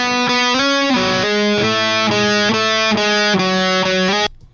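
Electric guitar with distortion captured through an SM57 microphone, panned left: loud sustained chords changing in rhythmic steps for about four seconds, then cutting off abruptly into silence.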